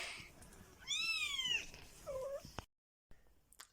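Nearly five-week-old kittens give high, rising-and-falling meows at close range. A loud meow comes first, then a shorter quieter one, followed by a brief silence.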